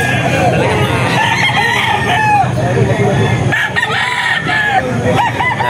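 A White Kelso rooster crows loud and close, its drawn-out cock-a-doodle-doo calls overlapping with other crowing and clucking birds at a farm breeder's sale in Bocaue, with some talk mixed in.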